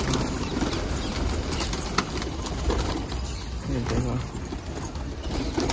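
Pigeons let loose from a rooftop net, wings flapping and birds cooing over a steady, busy outdoor background, with someone talking over them throughout.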